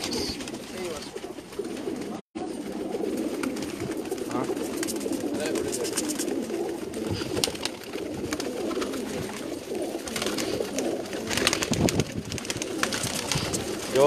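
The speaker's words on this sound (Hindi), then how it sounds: "माशाल्लाह बहुत ही प्यारे कबूतर हैं।" Pakistani pigeons on a rooftop make a steady low cooing murmur throughout, fairly close, with some faint talk and bird chatter mixed into the background.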